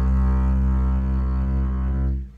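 A single sustained bass guitar note played with an exaggerated, very wide vibrato, its pitch wobbling steadily up and down, loud and alone before fading out at the end.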